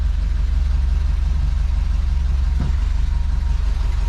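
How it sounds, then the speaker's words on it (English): A car engine idles on its own after a starter repair, a steady low rhythmic rumble close by with no speech. "first drive out of the shop with it idling by itself"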